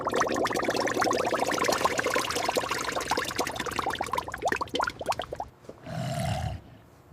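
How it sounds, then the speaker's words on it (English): Old engine oil drains from a police car sunk in a swamp for 40 years, a thick gurgling pour with sputtering bubbles close by that thins out and stops near the end, followed by a short low rumble. "And here's the old engine oil"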